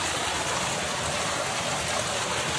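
Fresh stream water flowing outdoors in the mountains near Junbesi, Nepal, a steady broadband rush that stays loud and close throughout with no voices over it.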